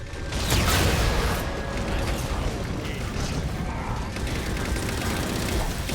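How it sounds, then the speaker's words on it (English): A railgun reloads in a Halo 4 cutscene, with loud, dense mechanical clanking, ratcheting and creaking over a steady rumble, sustained throughout. "Railgun reloaded."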